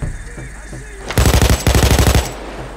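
A machine gun fires in Payday 2 in two short, loud, rapid bursts that follow a quieter lead-in of scattered game sounds, with a brief pause between the bursts.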